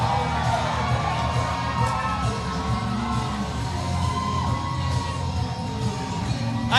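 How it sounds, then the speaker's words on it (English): A wrestling crowd at a Midwest All Pro championship event roars and cheers loudly and without letup, a dense wall of voices with whoops rising above it throughout. "The crowd is too loud."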